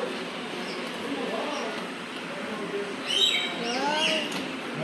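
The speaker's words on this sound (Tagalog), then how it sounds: "May mga ibon din dito." Birds at a zoo chirp and whistle in short rising calls over a murmur of people talking, clearest near the end.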